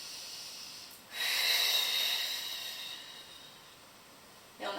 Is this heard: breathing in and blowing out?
yes